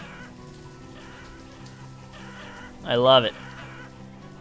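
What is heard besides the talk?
chickens clucking in video game Banished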